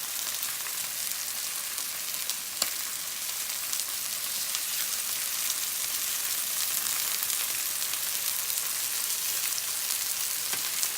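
Chicken pieces fry steadily in a hot skillet, giving a dense, even sizzle with faint pops throughout and no talking.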